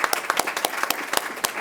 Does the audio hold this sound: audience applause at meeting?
yes